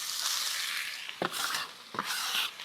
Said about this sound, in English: Get your Dutch oven nice and hot with olive oil. Add carrot, celery, onion, your usual suspects.